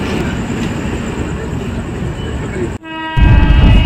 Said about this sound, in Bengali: 10:55-তে ব্যান্ডেল থেকে ট্রেনটা ছেড়ে দিয়েছে